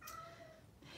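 A house cat meows near a Thanksgiving dinner table, the call rising into a brief drawn-out tone that fades, with faint room noise behind it.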